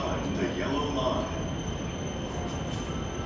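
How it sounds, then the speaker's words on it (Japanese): A rapid train bound for the Utsunomiya Line rolls up to track 11 at a station platform, wheels squealing under a steady rumble while a platform announcement plays. "The rapid train bound for 宇都宮 through service to the 宇都宮 line will soon arrive on track number 11."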